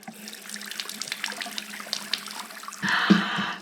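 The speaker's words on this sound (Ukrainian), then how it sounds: "Ось я мию, мию, мию руки." Hands are washed under a running tap: after a few faint clicks and light handling sounds, water suddenly gushes from the faucet for the last second, splashing loudly and close.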